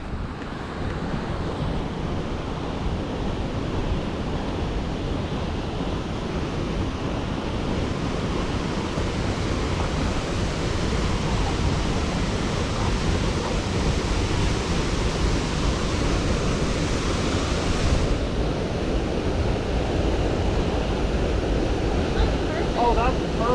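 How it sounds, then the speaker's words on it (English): A canyon waterfall at Cloudlake Canyon Park pours in a dense, steady roar of falling water, loud and unbroken throughout with no voices. "Wow, look at these falls. Look at all that water, dude."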